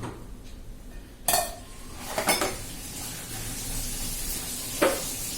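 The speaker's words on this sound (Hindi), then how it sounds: "अब ये चाय डालती हूँ, गरम गरम चाय" Hot ginger tea being poured, with a few clinks of cups and pots and a soft hissing pour in a quiet spot outdoors.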